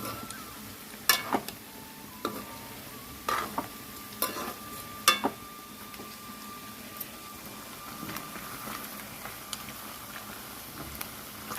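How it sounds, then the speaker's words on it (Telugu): Ginger-garlic paste fries in oil in a pan for chicken pickle, a soft low sizzle broken by sharp scattered clicks and scrapes from a stirring utensil, close and fairly quiet. "చక్కగా మంచి సువాసన వచ్చేదాకా ఇలా అల్లం చిన్నులపై పేస్ట్ వేయించుకోవాలి"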